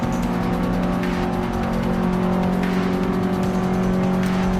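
Race cars in the Forza Motorsport 6 video game, including a Lancer Evo, with a constant loud droning engine whine, steady revving and occasional tire squeal, close and continuous without talking.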